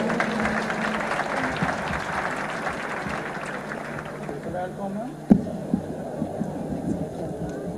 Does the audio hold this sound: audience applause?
yes